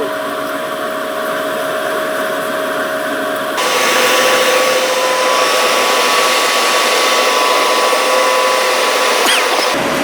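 A BLDC-motor flour mill (atta chakki) blows a strong, steady rush of air, a continuous whirring hum that grows louder partway through and holds constant, close and alone with no talking.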